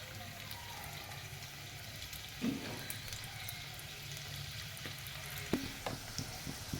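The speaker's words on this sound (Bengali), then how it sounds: "এবার আমি তেলের মধ্যে একে একে ছেড়ে দেবো।" Potato-filled ring pitha frying in hot oil, a continuous low bubbling sizzle with a couple of brief sharper pops and splashes as pieces settle, heard alone without speech.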